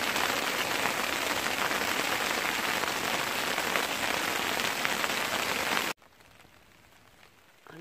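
Hail pelts steadily on a camping tarp in a dense, even patter for about six seconds, then drops away abruptly to faint, quiet ambience.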